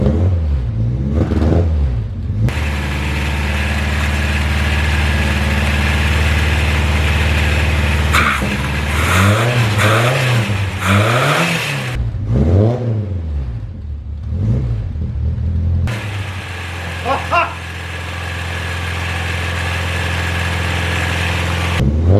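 A vintage 1974 KE car engine running close by, settling into a steady idle broken by several strong revving bursts that rise and fall, with a rough rumbling tone throughout and no talking.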